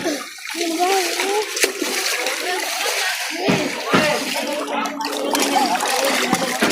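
Seawater splashing and sloshing close by at the sea, with people talking over it throughout.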